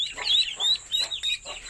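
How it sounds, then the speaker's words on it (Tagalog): A mother hen clucks in a backyard free-range farm, sounding four or five close, loud, rhythmic clucks in quick succession with no talking. "So, kukunin ko lang yung inahin natin."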